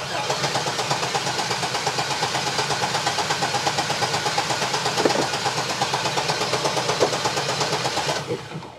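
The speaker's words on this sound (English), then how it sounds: "I'll crank for about 10 seconds" A car engine cranking on its starter motor during a starter test, a steady rhythmic churning with even pulses, close and sustained for about eight seconds before it cuts off abruptly.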